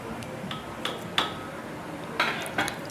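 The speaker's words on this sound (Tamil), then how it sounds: "இப்போ மீன் போட்டு கிண்டி விட்டுக்கலாம்." Small fish are stirred into gravy in a pot, heard as a few sparse metallic clinks and taps of a spoon against the pot rim over a low background hiss, close and fairly quiet, no voices.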